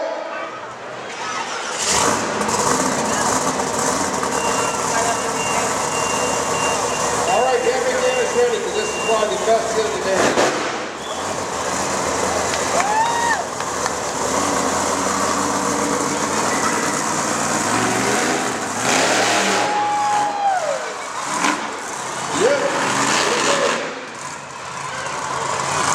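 A monster truck engine at a truck show fires up and revs loudly and steadily for a long stretch, with crowd noise and voices underneath.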